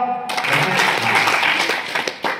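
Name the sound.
children clapping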